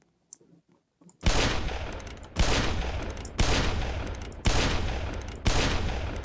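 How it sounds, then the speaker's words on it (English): Exploding bullets with simulated shrapnel in a Roblox open-world building and PvP game, five sharp loud blasts at a steady rhythm about a second apart, each with a decaying rumble, after a few faint clicks. "We also have exploding bullets as well. And the explosions do simulate shrapnel as well."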